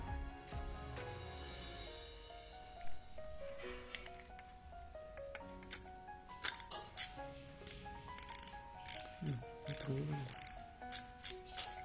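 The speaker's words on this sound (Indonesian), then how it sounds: "Bunyi klikernya lumayan nyaring ya, mantap ini saat strike, lumayan nyaring." Fugu Tora Pro fishing reel clicker sounding as the spool is turned, a quiet close mechanical ratcheting that speeds up into a series of sharp rhythmic clicks and clinks.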